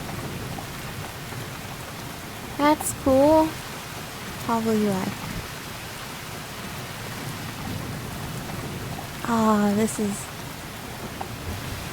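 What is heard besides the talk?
rain and thunder in video game Cabin Fever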